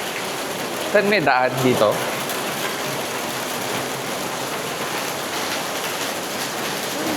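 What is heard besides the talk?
heavy rain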